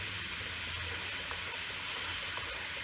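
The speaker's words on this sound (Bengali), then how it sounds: "তাহলে জল ফুটে গেছে" Water boils in a cooking pot, a soft steady hiss and bubbling rush, faint and continuous with no voices.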